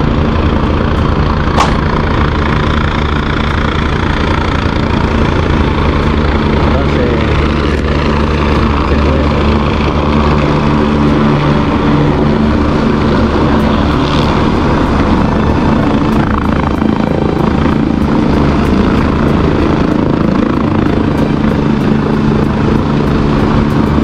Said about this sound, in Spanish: Ahí acaba de llegar el helicóptero